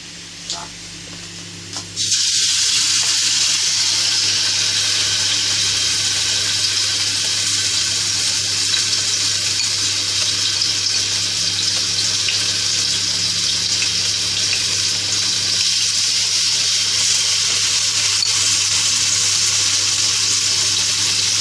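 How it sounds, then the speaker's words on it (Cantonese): Pork shoulder chops (pork butt chops) drop into a small amount of oil in a very hot wok, and after a short quiet start a loud, continuous sizzle holds steady to the end, with no voices. "一定要俾啲油啦，少少啦，咁就要一定個鑊要夠紅咧，咁煎嘢先係會靚嘅，先會煎得香出嚟嘅。"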